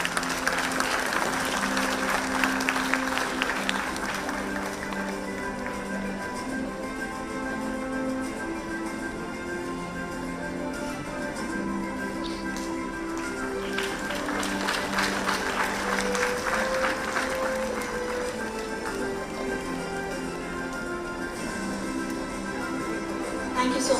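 Audience applause at the BLAIM 2025 conference at Parul University, a steady, moderate wash of clapping lasting throughout, with music-like tones and voices mixed underneath.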